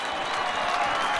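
A home rugby league crowd at a Wakefield v Leeds match cheers and applauds in a brief, steady burst of distant roaring noise.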